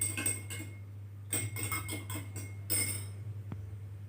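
A metal spoon stirs food colouring into a glass of water, with a run of quick clinks and scrapes against the container, a pause, then a second burst of tapping ending in one sharp knock over a low steady hum.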